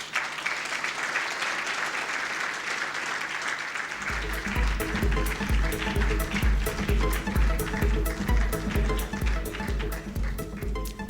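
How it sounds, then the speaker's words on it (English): Applause at an East African business awards ceremony: a crowd clapping densely at first, then about four seconds in a strong, steady rhythmic beat with music starts up, pulsing loudly under the continuing claps. "Please give a loud round of applause to Dr. Chandaria, our Lifetime Achievement Award"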